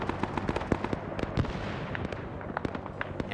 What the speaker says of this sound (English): they immediately start throwing grenades